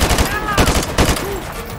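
A rifle fires rapid bursts in Call of Duty: Modern Warfare 2, the shots loud and close and mixed with game effects, while a voice talks briefly under the gunfire.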